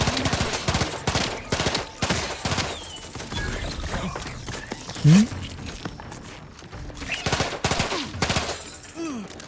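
Gunfire in The Outer Worlds 2 comes in repeated sharp bursts across a busy combat mix, with a voice talking over the shots throughout.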